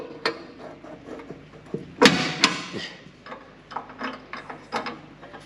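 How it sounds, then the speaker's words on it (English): Mechanical clicks and clunks from a grass seed drill as its plunger is pulled up, with a sharp metallic clack and brief ratcheting near the middle, amid quieter scattered knocks close by. "Pull that plunger up."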